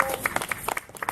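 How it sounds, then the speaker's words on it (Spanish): A church congregation applauding during a worship service, with scattered, uneven hand claps popping close by and faint voices mixed in. "Vamos a darle un aplauso a Dios."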